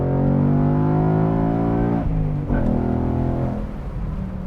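A loud, close V8 exhaust from a 2021 Ford Mustang GT with an active exhaust valve system rumbles deeply, its pitch easing down as the revs drop, with a brief blip partway through.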